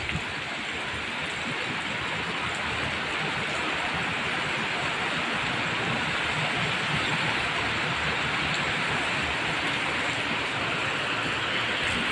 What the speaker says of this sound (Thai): ฝนตกทำเป็นไง